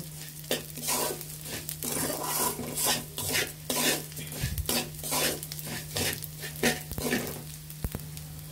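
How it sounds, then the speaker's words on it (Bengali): Rohu fish head and chinigura rice sauté with turmeric, chilli and coriander powder in a pot, a soft background sizzle under repeated scraping strokes of a spoon and occasional metallic clinks. "ধনিয়া গুঁড়ো সহ ভালোভাবে কষিয়ে নিয়ে এরপর আমরা জল দিয়ে দিব"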